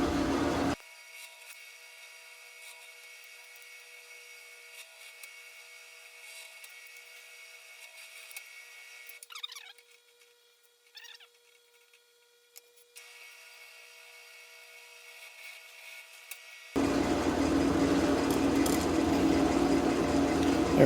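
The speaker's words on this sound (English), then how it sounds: "I'm going to drill the holes a little bit bigger than what the screws will be to hold it to the body" A drill bores screw holes in a custom guitar control cover plate. After a long quiet stretch with a few faint clicks, a loud, steady power-tool whir starts abruptly and runs to the end.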